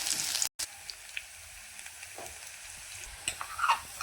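Onion with cumin and mustard seeds frying in a pan, a steady close sizzle with light crackles and a brief stir, with no talking.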